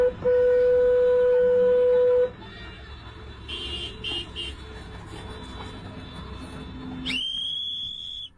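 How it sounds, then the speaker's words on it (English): Protesters in Chicago blow whistles at federal agents: one loud, steady, shrill whistle note lasts about two seconds, then a noisy stretch with scattered chirps, and a second piercing whistle rises near the end. "It's not like everybody just has a whistle in Chicago."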